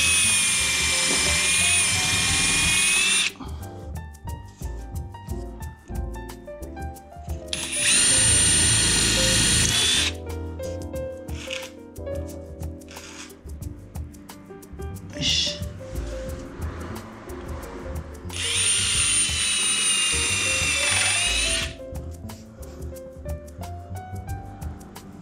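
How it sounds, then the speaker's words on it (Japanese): Hammer drill boring pilot holes into a wooden rafter during DIY partition building, heard in three loud, sustained bursts of whining, buzzing drilling separated by quieter pauses with handling noise. "振動ドリルでね、下穴開けていきます。"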